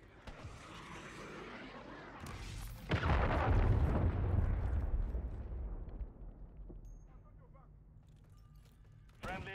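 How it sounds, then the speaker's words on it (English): A cruise missile explodes in Call of Duty Modern Warfare 3, a loud, close roaring blast that swells and slowly rumbles away while game voices and effects continue around it. "Friendly cruise missile deployed."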